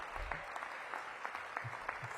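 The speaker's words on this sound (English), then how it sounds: "give yourselves a round of applause" Applause from an outdoor crowd at a children's cycling education graduation, a soft, steady patter of clapping heard from some distance, faint and continuous.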